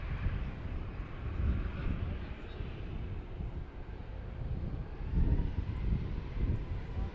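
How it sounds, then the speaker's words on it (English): An American Airlines Boeing 737-800 jet bound for Miami rolls on runway 19 at DCA, a steady low rumbling roar heard from a distance, buffeted by wind noise, with a brief swell near the end and people talking faintly nearby. "Should be American 1321 going back to Miami, 737-800."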